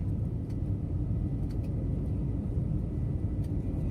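Jet airliner climbing out after takeoff from Bhubaneswar airport, a steady loud low engine roar and rumble heard from inside the cabin, constant throughout with no voices.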